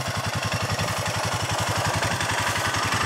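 A 2004 Honda Foreman Rubicon 500 4x4 ATV engine idles steadily, with an even, rapid low-pitched pulsing and light mechanical clatter, heard close with no talking.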